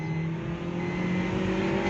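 Maruti Suzuki Swift with a 1200cc engine pulling in first gear, a steady close engine drone holding a constant loud tone for two seconds without anyone speaking.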